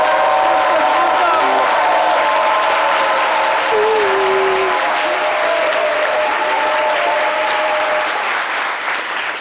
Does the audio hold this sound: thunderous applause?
yes